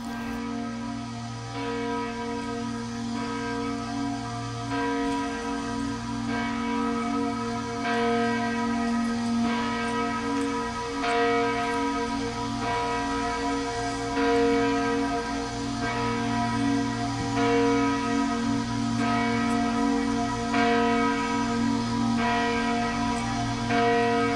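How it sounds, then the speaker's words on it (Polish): The bells of St. Catherine's Church ring steadily during mourning for Paweł Adamowicz, with repeated resonant strikes and long sustained tones blending into a continuous peal, without voices. "przez cały czas biły dzwony świętej Katarzyny"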